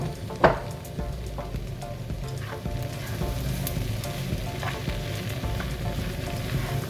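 Onions sizzle steadily in a hot pot, a constant crackling hiss with a faint knock near the start and occasional pops.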